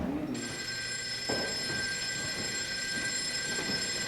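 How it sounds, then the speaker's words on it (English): A telephone rings steadily during a 1999 stage production of On Golden Pond at the Bickford Theater, a bright sustained bell tone starting just after the opening and continuing throughout over faint stage noise and knocks. "The phone is ringing."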